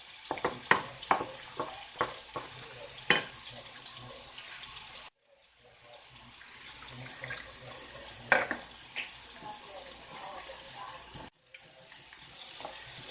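Grits on a stove being thinned with added water and stirred, giving scraping and sloshing strokes with faint sizzling from a nearby pan, brief pauses breaking the sequence; no talk.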